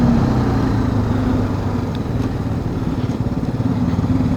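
A TVS Apache RTR 310 motorcycle accelerates in third gear, its engine a steady, loud, close drone with a gritty pulsing rumble that holds throughout, with no talking.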